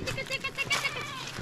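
Goat in a northern Pakistan village gives a short wavering bleat, close and moderately loud, lasting little more than a second.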